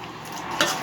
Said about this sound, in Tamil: நல்லா கிளறி விட்டு இறக்கிடுங்க.